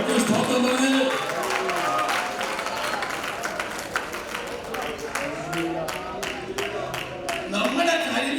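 A church congregation at a revival service claps hands together, a dense burst of sharp overlapping claps rising toward the end, with a voice speaking over it.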